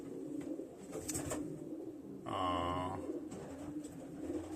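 Pairing pigeons coo close by, with one loud rolling coo in the middle and softer rustling and chatter before and after; a short spoken word comes at the start.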